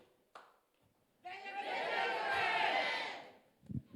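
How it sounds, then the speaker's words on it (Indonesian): A church congregation at a Sunday service breaks into cheering and shouting with some clapping, a swelling crowd roar that lasts about two seconds and then fades into quiet murmurs. "Tepuk tangan buat mereka."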